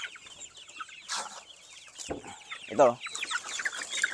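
Rhode Island Red and Black Australorp chickens cluck and chatter nearby while being fed, brief bursts of bird calls with someone speaking briefly among them.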